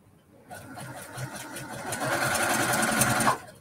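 A sewing machine stitching quilt borders starts up after a short pause and runs in a fast, steady whir, fairly close and moderately loud, until it stops near the end.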